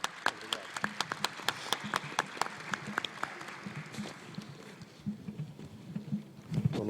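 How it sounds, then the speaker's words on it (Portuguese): Audience at a metallurgy congress session clapping: a handful of distinct, fairly close claps in a loose rhythm, thinning into scattered, fainter patter with some murmur toward the end. "salve de palmas"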